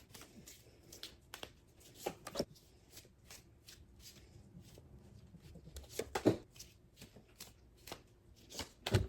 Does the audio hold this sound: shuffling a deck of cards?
yes